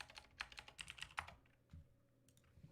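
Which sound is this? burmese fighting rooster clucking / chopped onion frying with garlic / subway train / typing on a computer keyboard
typing on a computer keyboard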